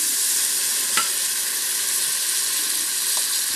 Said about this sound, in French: J'ajoute le vin blanc.